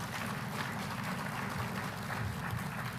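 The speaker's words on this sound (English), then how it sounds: "Let's give them all a round of applause." A crowd in Little Rock applauds the city directors at the State of the City address, with steady, even clapping throughout that sounds moderately distant.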